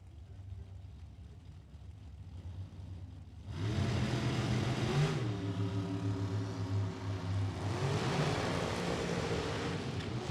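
Drag racing cars launch down the strip, a low idle rumble suddenly jumping into a loud, broad engine roar that shifts pitch, dips, then surges again as they head away down the track.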